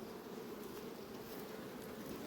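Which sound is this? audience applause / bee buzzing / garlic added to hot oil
bee buzzing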